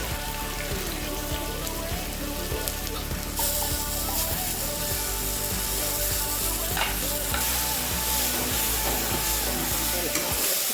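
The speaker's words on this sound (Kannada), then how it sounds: "ಮಸಾಲೆನ ಚೆನ್ನಾಗಿ ರೋಸ್ಟ್ ಮಾಡ್ಕೊಳ್ಳಿ." Ground masala paste with ginger-garlic paste for egg masala sizzling and roasting in a pan, a steady dense crackle with occasional stirring scrapes, close and continuous.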